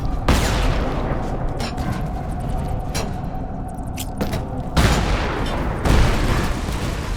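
Video game explosions as a bomb blows open a door in Lara Croft and the Temple of Osiris, heavy booming blasts landing in several loud bursts over a continuous rumbling din.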